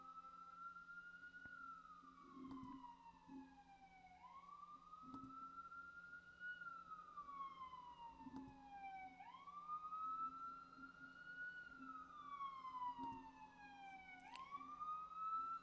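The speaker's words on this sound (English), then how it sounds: "I'm just gonna mute while the siren passes" An emergency vehicle siren wails in long rising and falling sweeps, steady and fairly loud, passing by over a low background hum.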